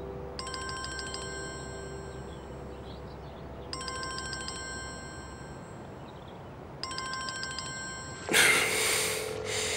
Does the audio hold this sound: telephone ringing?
yes